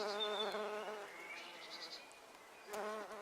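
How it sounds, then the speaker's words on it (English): Bees buzz nearby around a garden plant in wavering, overlapping drones, rising and fading as they move around, with no talking. "full of bees"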